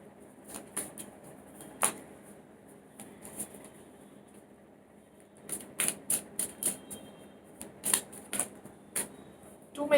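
Tarot cards are shuffled and spill, giving faint scattered papery flicks and taps, with a brisk flurry of card snaps in the second half, quiet and close.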